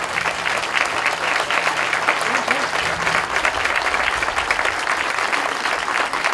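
Sustained, dense applause from an audience at a municipal community event in Malancourt, honouring the organisers and volunteers; steady and loud throughout, with a faint voice briefly audible underneath.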